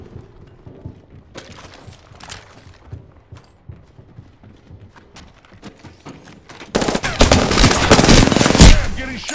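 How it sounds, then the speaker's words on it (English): Automatic gunfire in the shooter game Apex Legends, starting as scattered shots and thumps, then turning into a loud, dense burst of rapid fire near the end. "Yeah, I'm getting shot."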